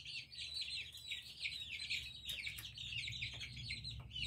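Baby chicks chirp in a busy, continuous high twitter while jostling onto a roost beside their mother hen, with a few louder peeps standing out and a low rumble of background noise beneath, no talking.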